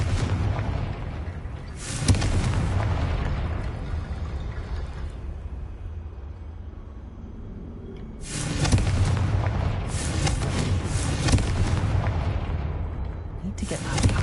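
The Confringo explosion spell cast in the Hogwarts Legacy video game, with a sudden loud blast followed by a rumbling decay, then a second burst of crackling booms several seconds later.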